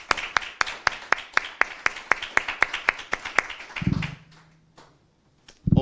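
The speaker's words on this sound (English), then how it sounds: "a big applause to all of you" Applause at the close of a workshop, a run of evenly spaced sharp claps, close and fairly loud, that stops abruptly and gives way to a brief low voice.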